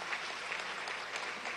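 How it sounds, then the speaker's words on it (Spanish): Audience applauding at a graduation ceremony, steady crowd clapping heard faint and distant throughout the short stretch. "Dámosle un aplauso a Pedro Infante, ¿vale?"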